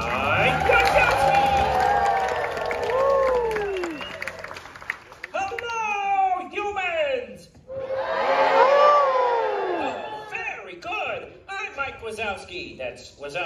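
Audience at the Monsters Inc Laugh Floor show at Magic Kingdom, Walt Disney World in Orlando, cheering, shouting and clapping in waves, with children's voices and a loud amplified host voice over the crowd.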